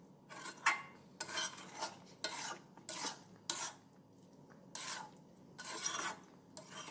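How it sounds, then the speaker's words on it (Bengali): A spoon scrapes and rasps against a pot in short bursts while rice pulao is stirred together with coconut dust, leaving quiet gaps between the strokes and no speech. "দিলাম নারকেল ডাস্ট, দিয়ে এটিকে ভালো করে নেড়ে নেবেন"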